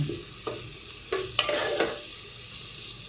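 Sizzling in a frying pan as more ingredients drop in on top of frying ginger, with a few sharp bursts and stirring scrapes over a steady hiss, close and fairly loud.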